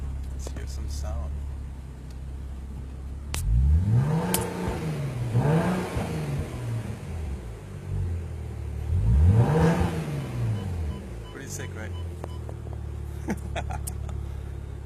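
A motorbike engine with a rev limiter idles and then revs in three rising and falling bursts, loud and close, with someone talking briefly near the end.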